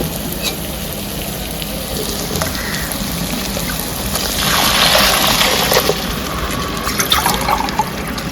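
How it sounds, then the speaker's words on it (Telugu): Water pours from a small vessel into a pot of rice for pulao, a loud steady splash over a sizzling, bubbling background, swelling midway and then trailing off. "వాటర్ పోసుకుందాము మనము ఈ చెంబుతో ఒక చెంబు బియ్యం తీసుకున్నాము ఈ చెంబుతోనే వాటర్ కూడా పోసుకోవాలి"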